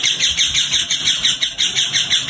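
Pet parrot and chicks chirping and tweeting in a steady stream of bright, overlapping calls, fairly close and continuous with no talking.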